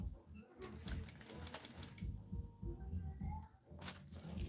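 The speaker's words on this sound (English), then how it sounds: "I'm going to stitch across there" A sewing machine stitches across fabric for a jumpsuit, a quiet rapid chatter of needle strokes in short runs with brief pauses, faint and close.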